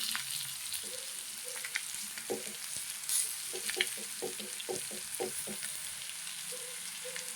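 Grated cucumber, squeezed of its water, being stirred into onions frying in a pan for cucumber palya, with steady close sizzling and a run of soft scraping stirs through the middle, no talking.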